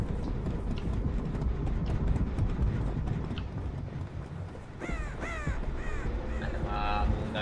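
Crows cawing in the Dead by Daylight video game, several harsh caws in quick succession over a busy background of footsteps and game noise.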